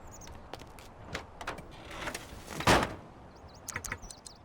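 Car doors on a pickup truck open and shut in a video game, heard as a series of quiet clicks, thumps and latch sounds. One louder slam lands near the middle, over faint background noise and without speech.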